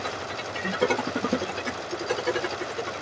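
An embroidery machine stitches with a rapid, steady mechanical chatter and a continuous motor hum, at moderate loudness throughout and with no voices over it.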